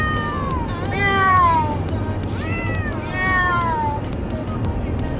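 Several drawn-out, wavering meows from a male stray kitten in a crate rise and fall over a steady low rumble of road noise inside a moving car.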